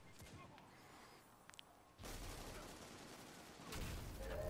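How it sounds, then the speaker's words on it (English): Auto rifle fire in a Destiny Trials match on Altar of Flame, starting as faint scattered shots and then swelling into sustained rapid bursts that grow louder toward the end. "Wow, those fucking auto rifles."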